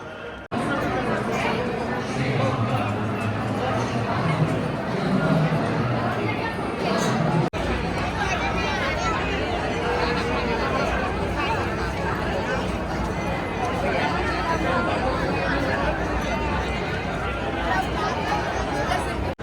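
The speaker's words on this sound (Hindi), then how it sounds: "बहुत भीड़ है" A dense crowd chatters in a steady, unbroken babble of many voices at Mahakaleshwar temple in Ujjain, busy in the afternoon, with a nearer voice rising above the hubbub early on.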